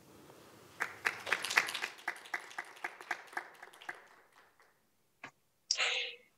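Light, scattered applause from a small audience at an academic forum session on Korean peninsula peace and the UN SDGs, a sparse run of claps fading out after a few seconds, faint and thin, followed by brief silence and a couple of isolated noises.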